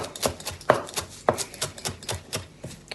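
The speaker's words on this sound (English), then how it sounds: "we have some of this beautiful parsley from the farmer's market, and we are going to just chop this up" A knife chops fresh farmer's-market parsley on a cutting board, giving a series of close, uneven taps and soft thuds with a couple of sharper strikes, heard without speech.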